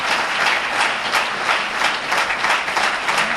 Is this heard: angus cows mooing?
no